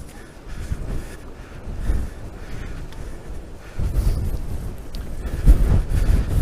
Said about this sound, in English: So windy today. 50 mile an hour winds, they reckon.